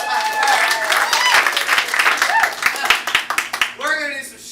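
An audience claps at an improv student showcase, a fairly small crowd giving scattered, fading applause with a voice speaking over it near the end.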